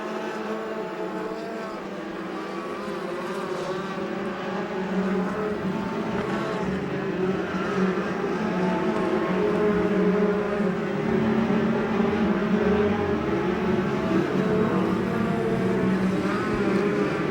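Sprint cars race around a dirt oval at Bakersfield, California, their engines making a continuous loud roar that swells as the field runs down the front straight into turn one.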